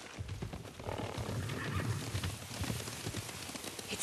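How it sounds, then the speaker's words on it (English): Horses thunder past at a gallop in the Ghost of Tsushima video game, a dense, continuous pounding of hooves with a whinny mixed in, loud and close throughout. "Horses, they're coming for us."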